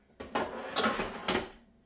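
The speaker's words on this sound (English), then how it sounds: "I'm going to go ahead and put this in this bottom drawer" The bottom drawer of a Ninja Combi oven slides in with a couple of scraping, clattering thuds. A tray of cauliflower chicken parmesan is being loaded.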